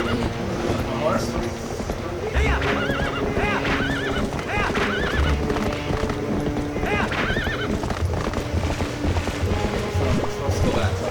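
Rapid hoofbeats clatter steadily while a horse whinnies several times in high, wavering bursts in The Legend of Zelda: Twilight Princess, with faint game-like background sounds.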